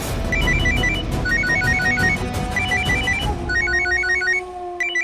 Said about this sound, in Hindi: दादी का फोन।